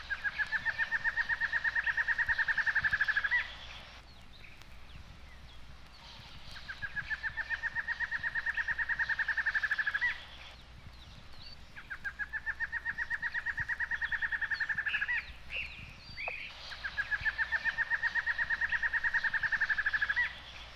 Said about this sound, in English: In brushy areas, the barred antshrike repeats his song with his distinctive hiccup at the end.